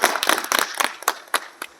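An audience applauding to welcome a guest at a local gathering, with a short burst of scattered, uneven claps that thin out and fade over under two seconds.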